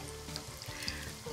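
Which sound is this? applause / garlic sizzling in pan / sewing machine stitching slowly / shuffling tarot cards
garlic sizzling in pan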